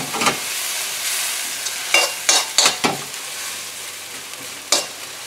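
Garlic and ginger sizzle steadily in a frying pan, a close, bright hiss broken by several sharp scraping stirs, with no talking.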